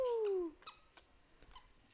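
A young child imitates a dog's bark with one high, squeaky, falling vocal call, close and quiet, followed by faint background noise and soft rustles.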